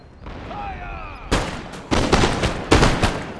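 Grenadiers fire musket volleys in Empire Total War during the siege of Rome, three loud, sharp bursts of flintlock fire following a whistling tone, each volley a crackling cluster of shots rather than a single bang.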